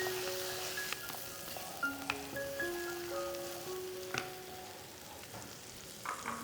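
Marinated chicken fries with green chilli paste in a pan for Andhra chilli chicken, a faint, steady sizzle with occasional stirring clicks and soft background tones.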